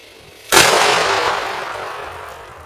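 One sharp, loud firecracker blast cracks out after a short quiet moment, then a long rumbling echo slowly fades.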